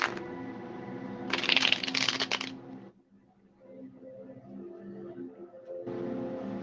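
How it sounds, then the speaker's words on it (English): Tarot cards shuffled by hand, brisk riffling bursts near the start and again at the end, close and fairly loud, with quieter handling between. "So let's get into shuffling these cards."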